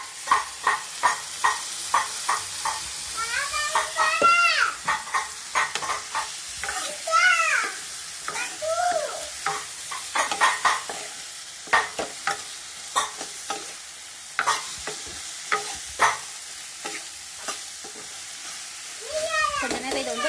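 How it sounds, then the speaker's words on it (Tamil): Soya chunks fry with ground black pepper and fennel in a pan, a steady sizzle under repeated scraping stir strokes and metallic clinks, with someone talking at intervals. "அதாவது நல்லா ஃப்ரை ஆகுது"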